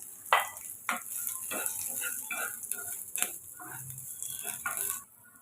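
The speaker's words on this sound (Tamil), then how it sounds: "அதையும் சேர்த்து வதக்கிக்கலாம் ஒரு ரெண்டு நிமிஷம் வதக்கினா போதும்" Pepper, fennel and grated coconut are sautéed in a pan for a crab curry masala, giving a steady soft sizzle broken by intermittent stirring scrapes and clicks.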